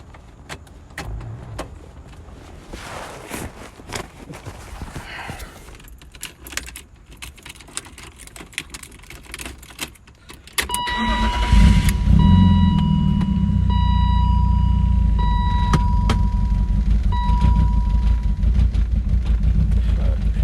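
BMW E36 engine after throttle body and idle control valve cleaning: scattered clicks and shuffling, then the starter catches around halfway and the engine settles into a steady, close, rumbling idle that continues to the end.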